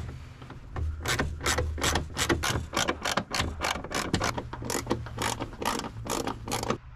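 A ratchet wrench undoes 10 mm bolts on a second-generation Toyota 4Runner, with a long run of evenly spaced clicking strokes, close and clear from start to end.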